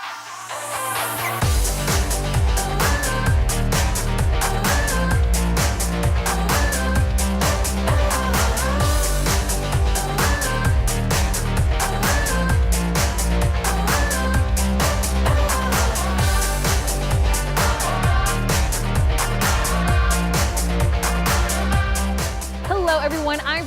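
A musician jams jazz in a studio: a steady, dense run of piano chords and bass with crisp percussive attacks, close and loud throughout, with a brief quiet lead-in and no talking.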